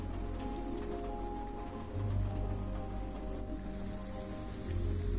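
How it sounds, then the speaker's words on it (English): Steady rain falling and pattering on surfaces in the game Detroit: Become Human, a soft continuous hiss with a low background hum, no voices. "But at least we're out in the rain."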